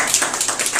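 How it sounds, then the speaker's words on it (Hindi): An audience at a computer lesson claps briefly, giving a short burst of close, dense hand claps. "तो उनका स्वागत करते हैं राशि सोनी जी का, तालियां एक बार।"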